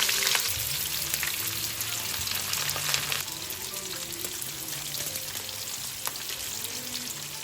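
Chopped onion and garlic sizzle steadily in hot oil in a pan, a dense, continuous frying hiss up close with a few faint stirring sounds and no talk.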